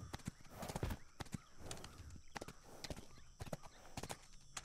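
Horse hooves clip-clop in the survival video game HEAT, a quick, uneven run of sharp knocks, close and fairly loud, continuing throughout with no talk.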